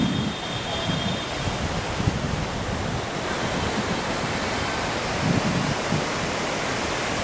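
Waves and wind on a beach in Da Nang, Vietnam make a continuous broad rushing surf hiss, with periodic swells of low rumble from breaking water and gusts buffeting the microphone.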